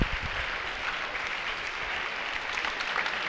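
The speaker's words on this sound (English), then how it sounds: "People down here in the lobby cheering as the soldiers march." Steady, continuous cheering and clapping from a crowd of people in an Atlanta airport hotel lobby as soldiers march through, a dense, unbroken wash of applause at moderate distance with no pauses.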